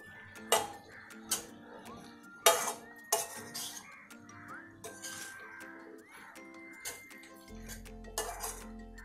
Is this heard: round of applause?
no